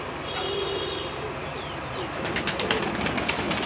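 Pigeons coo softly amid a steady broadband wash of background noise, with faint chirps and fluttering near the end, perched on a house roof in the outdoor afternoon.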